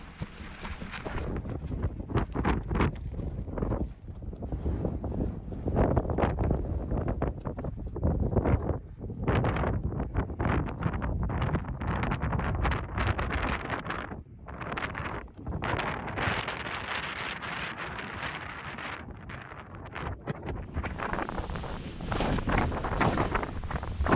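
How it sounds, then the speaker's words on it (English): Strong, gusting wind buffets the microphone at a hillside wild camp in the Cheviots, roaring loudly and almost without pause for the full stretch, with dips and surges in force. "you don't really want to be out in that kind of wind"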